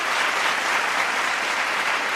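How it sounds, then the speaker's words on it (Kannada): Sustained, dense applause from an audience at an award ceremony honouring a Jyotishya Ratna recipient, a loud wash of many clapping hands with no break. "ಮತ್ತೊಮ್ಮೆ ಜೋರಾದ ಚಪ್ಪಾಳೆ"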